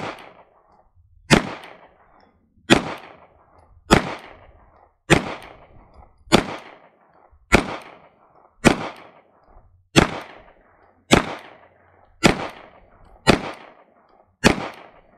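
FN 509 Tactical pistol with an Apex trigger firing 124 grain Summit City bullets at a range, twelve loud sharp shots spaced evenly about every 1.2 seconds, each with a short decaying echo.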